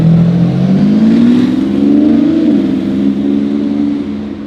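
Orange Revolto car engine revving up loud and close, a rising then steady mid-pitched roar that eases off at the end, with no other sounds.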